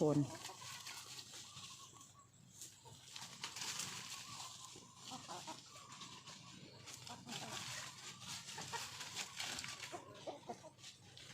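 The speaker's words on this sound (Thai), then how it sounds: "ก็ได้ปล่อยน้องไก่นะคะ ออกมาหากินนะคะ" Free-range chickens foraging in scrubby woodland, clucking softly and intermittently throughout amid broad outdoor background noise, with someone talking over them.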